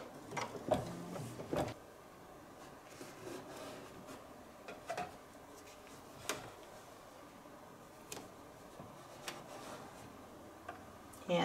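A single-needle embroidery machine stitches wheel well placement lines for an appliqué parade truck, giving off a soft, steady mechanical ticking with scattered light clicks and taps, fairly faint and close, with no talking.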